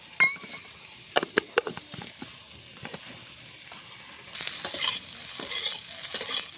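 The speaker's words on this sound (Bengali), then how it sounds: "সবজির সঙ্গে ডালটা, সবজিটা একসঙ্গে ভাজা হয়ে গেছে" Vegetables and lentils fry in a pan for a vegetarian dal dish while a utensil stirs them with scattered scraping clinks, and the sizzle swells louder partway through; no one speaks.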